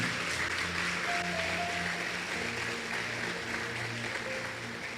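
A church congregation applauds in a steady, sustained wash of clapping that fills the whole stretch, with faint sustained tones beneath it.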